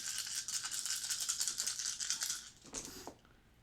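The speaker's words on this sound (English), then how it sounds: "All the dice. All the dice." Dice rattling and clattering during a tabletop board game session, a dense run of quick, close rattles for over two seconds, then a few looser knocks and a final settle with no talk.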